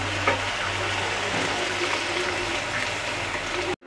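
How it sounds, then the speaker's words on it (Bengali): Hot water is poured into a pan of frying small puti fish curry, giving a loud continuous rushing, bubbling hiss that fills the clip and cuts off abruptly at the end. "গরম পানি দিয়ে দিই।"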